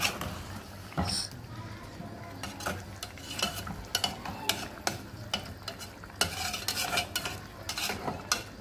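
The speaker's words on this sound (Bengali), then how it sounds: "এখন ঢাকনাটা উঠিয়ে আবার নেড়ে চেড়ে দিব।" A spoon scrapes and stirs thick, simmering curry in a hot frying pan after the lid comes off. Close, irregular clinks and scrapes ride over a steady oil sizzle, with short bursts of louder stirring throughout.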